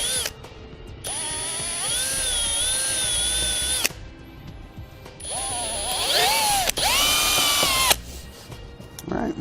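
A power drill bores a pilot hole out to a quarter inch in a carpeted boat trailer bunk board, running in two long whining bursts with a short pause between them, loud and close.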